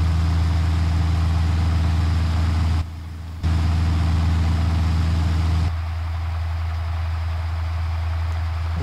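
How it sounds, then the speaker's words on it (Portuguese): Simulated Robinson R44 helicopter engine running with the rotor stopped in Flight Simulator X, a steady loud droning hum with strong low tonal bands, briefly cut out once and then continuing at a lower level. "Só o motor ligou. A aeronave em si está com o rotor parado,"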